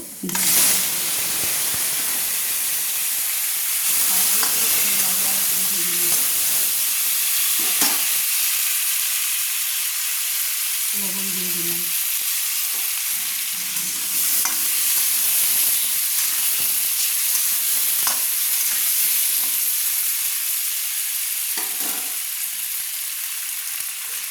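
Cut potatoes frying with turmeric in hot oil in a kadai, a steady loud sizzle running throughout with occasional stirring scrapes and clinks over about twenty-four seconds, no voices.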